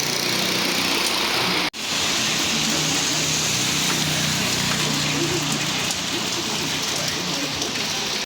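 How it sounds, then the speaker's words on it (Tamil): Heavy, steady rain pours down over Nallur, Jaffna, in a dense roar with a brief dropout, an engine-like hum blending underneath. "மழை இப்போ தான் பிடிச்சிருக்கு இன்றைக்கு மழை விடாதுன்னு நினைக்கிறேன்"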